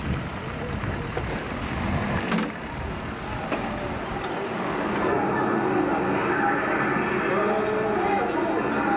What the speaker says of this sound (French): les camions arrivent, les tanks vont arriver